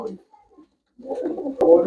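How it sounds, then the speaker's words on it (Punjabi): A pigeon offered for sale gives a short, low coo after a brief pause, ending in a sharp click, all within a couple of seconds. "ਪਹਿਲਾ ਕਬੂਤਰ ਤੁਹਾਨੂੰ ਦਿਖਾਉਣੇ ਆਪਾਂ"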